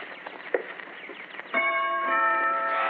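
Clock chimes ring out in a house, a muffled rustle giving way to sustained, sweet bell-like tones that sound close and fairly loud, with no talk.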